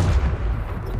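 Short, loud gunshot burst in the sci-fi arena shooter Splitgate, a close blast with a heavy low-end thump that fades out within a second.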